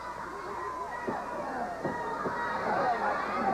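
A wrestling arena crowd murmurs and chatters in the background, a diffuse hubbub that swells slightly toward the end, with a commentator talking over it.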